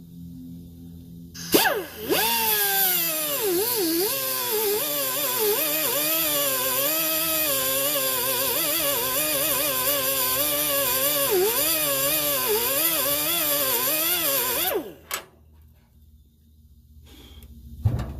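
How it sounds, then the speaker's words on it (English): An air die grinder with an abrasive wheel cutting through a bolt while chasing a power problem on a van: a loud, continuous high-pitched whine for about twelve seconds, its pitch wavering as the wheel bites, then cutting off abruptly. "I'm going to use my little die grinder wheel, abrasive wheel on it. I'm going to cut that bolt right there"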